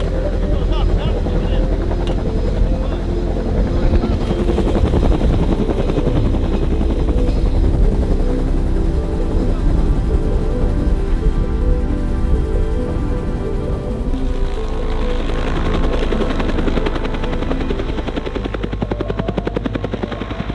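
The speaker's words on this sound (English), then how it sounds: "the helicopter is struggling to be able to lift the whole load up to be able to take it to the top" A helicopter strains to airlift a wrecked Polaris RZR UTV, its rotor and turbine roaring loud and steady throughout, with voices talking over it.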